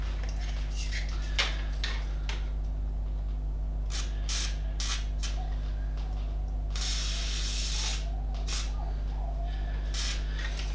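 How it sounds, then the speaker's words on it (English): A short, close hiss of WD-40 lubricant sprayed onto the suspension shaft of a mountain bike, with faint ticks and light mechanical clicks around it. "So a little bit of WD-40."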